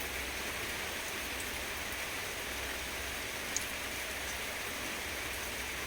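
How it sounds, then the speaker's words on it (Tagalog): Rain falls steadily, a dense even hiss of drops on surfaces with no pauses, with one faint tap partway through and no voices. "there's water here because the rain is since morning"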